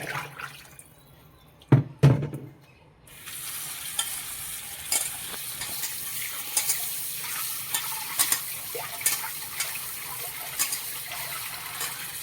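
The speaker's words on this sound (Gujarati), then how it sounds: "આવી રીતે આપણે પાનને ચોળીને ધોશું ને એટલે બધી માટી, કાંઈ જીવજંતુ ચોટેલું હોય, ઝીણી જીવાત એ પણ નીકળી જશે" Amaranth leaves are rubbed and washed in a bowl of water, making wet swishing and splashing with scattered drips and clicks; a couple of louder knocks come first, then a steady watery rustle.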